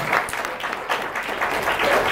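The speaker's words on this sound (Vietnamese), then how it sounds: "Một tràng vỗ tay thật lớn nữa" Loud, dense audience applause rings out at a Vinalink Group multi-level marketing seminar as the crowd claps for the chairman, sustained and close for about two seconds.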